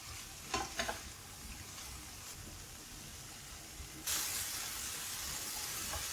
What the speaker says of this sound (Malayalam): ആവശ്യത്തിനുള്ള ഉപ്പും കൂടെ ചേർത്ത് നന്നായിട്ട് ഇളക്കി യോജിപ്പിക്കാം